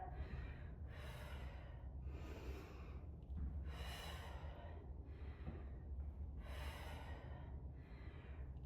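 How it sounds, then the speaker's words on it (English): Deep, forceful breaths during a stretching and lunge exercise session, about five long, rhythmic inhale-exhale rushes, close and clear against a quiet low background hum. "Nice deep breath."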